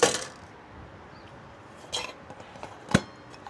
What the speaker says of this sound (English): Put this on top, and all the pots will go in first